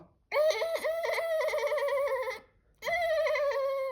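Whimbrel calling in an open seaside setting near islands: two loud, clear, rippling whistled calls with a trilled, bubbling quality, the first about two seconds long, then a short pause before a second call, heard alone without talk.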